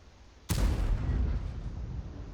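A T28 HTC tank destroyer's main gun fires once in World of Tanks, a sudden loud boom that rolls into a long, heavy rumbling decay.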